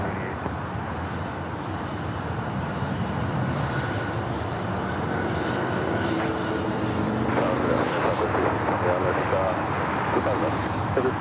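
Aircraft at LAX on runway 25 right make a broad, steady roar of engines that swells in the later seconds, while air traffic control radio talk runs over it.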